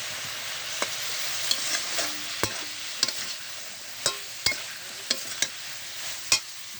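Boiled turnip, spinach stems and potato sauté in a pan, giving a soft steady sizzle close by, punctuated by sharp spatula taps and scrapes against the pan at irregular intervals.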